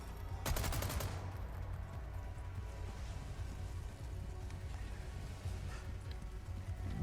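Gunfire from a video game's Handcannon and Chicago Sweeper weapons, a short burst of rapid shots early on, then low, muffled firing and rumble in the background.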